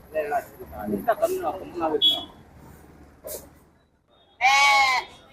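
Voices chatter briefly at a sheep market in Sira, then after a pause a sheep's loud, drawn-out bleat rings out close by near the end.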